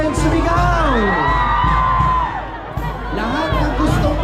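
A large crowd shouts and cheers together at a religious fiesta honoring Nuestra Señora de Salambao in Obando, loud sustained yelling and whoops, with voices rising and falling in waves.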